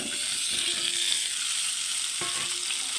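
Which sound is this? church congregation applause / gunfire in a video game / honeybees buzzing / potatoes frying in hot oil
potatoes frying in hot oil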